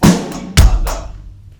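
A drum kit plays a bar-seven sixteenth-note pattern with the bass drum on shifting beats. Three or four punchy hits ring out close and loud, each decaying quickly, with no voice over them.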